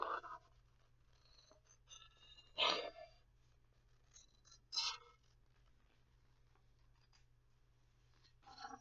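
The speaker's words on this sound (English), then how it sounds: "you're going to do more than just cut out the circle" Scissors cutting out a paper circle for a frog life cycle craft wheel, heard as a few faint, separate snipping and rustling bursts spaced apart over a quiet, low hum.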